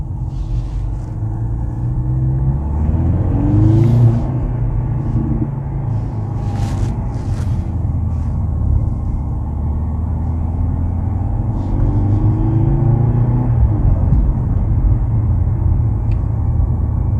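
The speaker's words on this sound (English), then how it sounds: "I hope you like this video with the C43 in a night drive in the city here in Colmar" A 2023 Mercedes-AMG C43 cruises through Colmar at night, heard from inside the cabin as a steady, loud low engine and road rumble with gentle rises and falls in pitch as it accelerates and slows.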